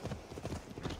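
Horse hooves clip-clop at a walking pace through a city in Assassin's Creed Valhalla, a dense, steady run of close, loud hoofbeats with no gaps across the short stretch.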